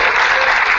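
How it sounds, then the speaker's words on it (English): Audience applause for Kim Harrison, CapCUE president, at the CapCUE13 keynote: a brief, steady burst of many hands clapping, loud and dense with no gaps. "So if everyone give Kim Harrison a round of applause"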